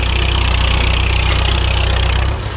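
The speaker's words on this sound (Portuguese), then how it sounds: "nosso trator de trabalhar aqui na fazenda" A farm tractor engine idles close by with a steady low rumble and a faint knocking pulse, dropping slightly in level near the end, with no talk over it.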